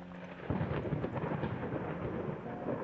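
Rolling thunder over steady rain fills a dark house in the horror game Layers of Fear, a continuous dense rumble with no speech.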